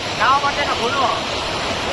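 River water flowing steadily at Girnar during the Lili Parikrama pilgrimage near Junagadh, a broad continuous rush close to the microphone with people talking over it.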